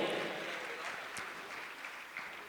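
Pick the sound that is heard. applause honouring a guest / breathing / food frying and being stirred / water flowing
applause honouring a guest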